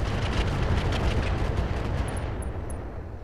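A dense, roaring barrage of mech weapons fire in Roguetech, the BattleTech mod, rumbles continuously and loud from start to finish, with faint high beeps near the end.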